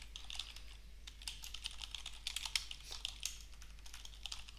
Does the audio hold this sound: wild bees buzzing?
no